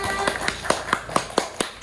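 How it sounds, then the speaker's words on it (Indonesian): A classroom group claps hands in a steady unison rhythm, eight or so sharp, evenly spaced claps at moderate loudness. "Tepuk tangannya dong semuanya."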